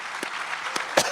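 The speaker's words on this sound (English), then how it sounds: "Give everyone at home a round of applause" Brief audience applause from a live crowd at the Northeast Conference on Science and Skepticism is a soft, steady patter of clapping with a few sharper claps standing out.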